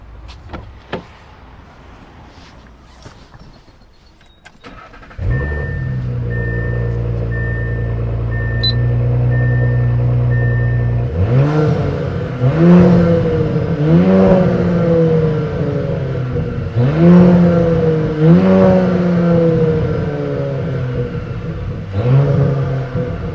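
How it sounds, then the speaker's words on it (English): A 2023 Audi S4 with 034Motorsport intake, inlet and tune cranks and catches, settles into a steady idle, then is revved repeatedly in rising and falling bursts, loud and close. "So now I'm going to just start it, and I'm just going to rev it out so you guys can hear it."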